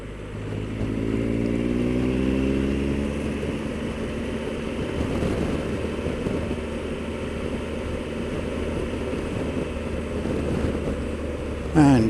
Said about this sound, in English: Just a fraction of power to drive the bike through.